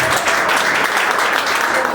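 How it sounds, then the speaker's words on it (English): At a Hidalgo County Democratic Party breakfast, the audience gives a dense, loud round of applause that runs steadily for a couple of seconds. "big round of applause"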